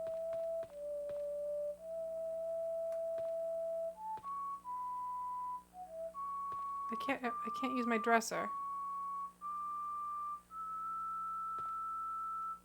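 People whistling a tune in a room: a faint, steady melody of long held notes, with a brief burst of someone talking partway through and some thumps.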